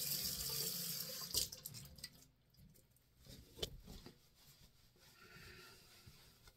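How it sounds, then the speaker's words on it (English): Running water from a bathroom tap rinses alum block residue off a freshly shaved face, a steady splashing stream with hand rubbing and splashes, fairly quiet and close, no talk. "let me rinse this alum off"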